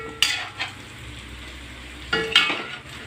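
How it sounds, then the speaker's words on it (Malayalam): Chicken pieces sizzle in a pan while a spoon or spatula stirs them, two sharp scraping strokes standing out over a low steady frying hiss, close and without voices. "അതിൻ്റെ ഇടയ്ക്ക് ചിക്കൻ വെച്ചേക്കണത് ഒന്ന് ഇളക്കി കൊടുക്കണം കേട്ടോ."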